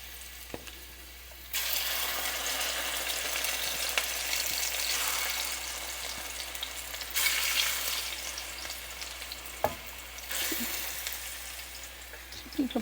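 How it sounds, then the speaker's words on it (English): Plantain slices fry in a pan with a steady, fairly quiet sizzle that swells louder in stretches, with a few soft clicks and knocks of utensils. "I'm going to fry some plantain."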